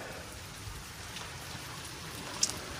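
Pouring rain in a backyard, a steady dense hiss of drops falling outdoors with no talking.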